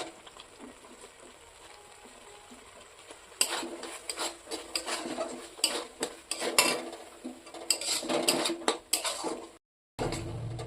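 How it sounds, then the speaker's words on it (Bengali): Capsicum cooking with chilli powder and spices in a pan, heard as a low sizzle beneath busy scraping and clattering of a spoon against metal, close by, with a brief dropout near the end. "ক্যাপসিকামটা হালকা হালকা ভাবে ভাজাও হয়ে গেল মশলার সঙ্গে"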